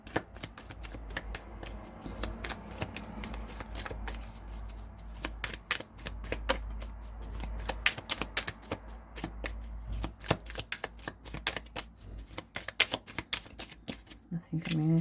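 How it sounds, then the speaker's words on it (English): Oracle cards are shuffled close up in a rapid run of crisp riffling and snapping clicks that comes in bursts, with a low hum underneath. "let's do some clarifying and then we'll pull an oracle card"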